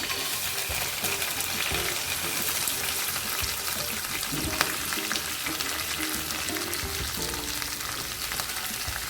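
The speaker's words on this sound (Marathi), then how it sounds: "तेलामध्ये कांदा शेंगदाणे आणि कढीपत्ता चांगलं हलवत राहायचे" Onion, peanuts and curry leaves fry in hot oil for a brinjal bharit, giving a steady, close sizzle throughout with scattered clicks and scrapes of stirring; no voices are heard.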